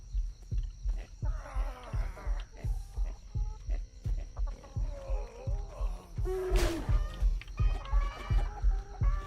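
Chickens cluck and squawk inside a chicken coop, close and fairly loud, with steady rhythmic thumps underneath and a brief sharp burst partway through.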